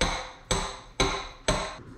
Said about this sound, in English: I hammered these into the back of the wood beam.